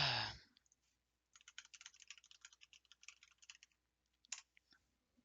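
Computer keyboard typing, close and quiet, in quick bursts of clicking keystrokes with pauses between, after a brief sound at the start.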